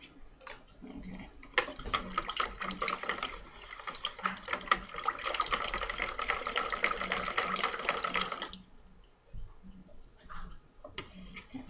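Tap water runs for several seconds as something is rinsed under it, a soft, fairly quiet splashing stream with light ticking knocks, then it stops and only faint handling noises remain.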